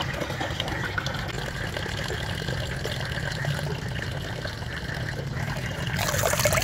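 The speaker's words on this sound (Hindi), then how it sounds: "तो अभी हम इसमें इसे पानी से भर देते हैं और फिर देखते हैं।" Water pouring into a bucket fitted as a homemade 12-volt solar water heater, a steady close splashing rush that holds evenly throughout with no one speaking.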